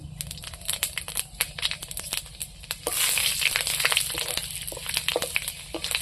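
Panch phoron spices sizzle in hot oil on a clay village stove, a dense, steady crackle that swells louder and busier halfway through, with no voices.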